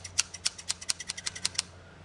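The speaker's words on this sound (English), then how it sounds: "I'm looking to cut this piece of film." Sharp scissors snipping through a piece of film, a steady run of about ten crisp metallic cuts at an even rhythm, close and quiet, with no talking.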